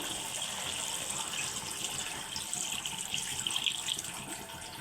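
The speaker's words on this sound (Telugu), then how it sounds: "ఇప్పుడు వాటర్ పోసుకుందామండి కొంచెం" Water pours into a cooking pot of chicken and vegetables in a steady, splashing stream for several seconds, close by and fairly quiet, with no talking.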